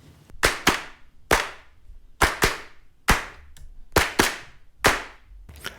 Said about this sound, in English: Once I got my audio claps aligned, I'm gonna submix them.